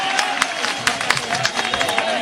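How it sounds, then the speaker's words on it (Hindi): A crowd at a Congress party office in Bhopal applauds to welcome former state party president Arun Yadav, a loud scattered clapping with crowd noise, close by. "जरा जोरदार तालियों से उनका स्वागत करें आप"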